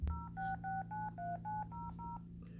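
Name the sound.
dialing a landline telephone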